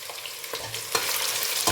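Vegetables with garlic and pepper stirred in a frying pan, a dense continuous sizzle broken by a few scraping stirs, close and fairly loud with no talking.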